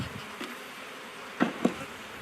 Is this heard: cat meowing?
no